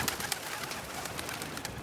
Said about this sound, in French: En matière de saleté, les pigeons ont prouvé leur nuisance depuis longtemps.